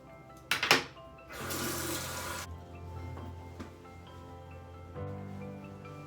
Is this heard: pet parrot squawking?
no